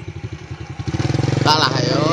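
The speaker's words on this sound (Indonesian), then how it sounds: "Ada motor lewat." Motorcycle passing close by on a village road at night, its engine putter quickening and swelling as it nears, then peaking in a loud rush.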